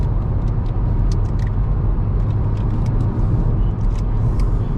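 A Hyundai Verna car's engine accelerates past 3000 rpm on the road, giving a steady loud rumble with road and wind noise throughout and no talk.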